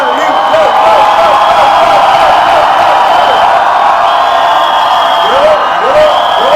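A dense crowd at a Citadel: Honey Bunny promotional event cheers and whoops continuously, a loud sustained roar with rising shouts, voices mixed through it and a steady hum underneath.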